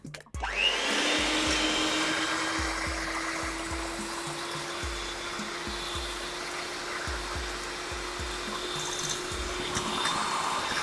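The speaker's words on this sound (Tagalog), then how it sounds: "And mix natin ito for 30 seconds." An electric mixer beats chocolate cake batter with a loud, steady motor whine and a constant tone. Faint rhythmic clicks from the beaters run beneath it, and the mixer starts abruptly after a brief moment of quiet.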